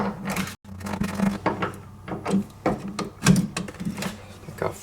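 An 8mm socket ratchet undoing bolts on a Ford Freestar, with close rapid clicking strokes in short bursts, while a voice talks over part of it.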